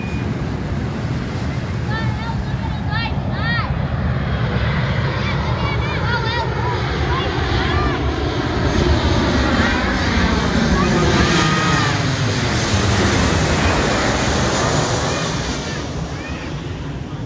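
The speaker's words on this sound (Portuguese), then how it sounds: "o avião vai passar bem em cima da gente" A low-flying airplane passes overhead above a boat on Guanabara Bay, its roar swelling and sweeping down in pitch over loud wind, engine and water noise, with voices chattering in the background.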